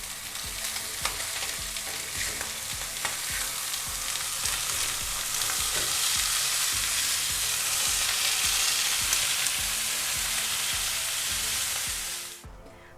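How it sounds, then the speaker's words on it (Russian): Trout fried in a pan crackles with a loud, continuous sizzle that holds steady and then cuts off near the end. "Жарим рыбку с 2 сторон до готовности."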